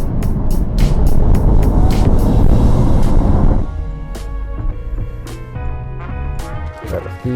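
A Porsche 911 GTS rolls over rough, cracked pavement, a dense broadband road and engine rumble for about three and a half seconds, then quieter running with scattered thumps and clatters as the tires strike bumps.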